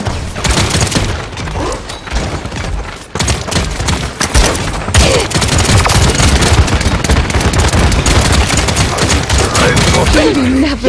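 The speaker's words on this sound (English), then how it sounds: "Firing on me." Enemy gunfire in the online shooter Paladins, loud and dense, with rapid bursts of shots and booming impacts that continue almost without pause.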